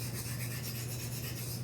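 Blade rubbed steadily along a sharpening stone, a close, faint, continuous rasping scrape with no pauses and no voices.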